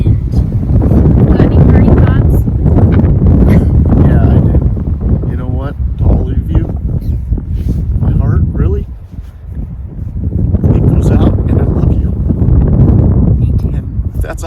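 Wind gusts through a stand of burnt trees outdoors, a loud rumbling buffet on the microphone that swells and eases across the stretch while people talk over it.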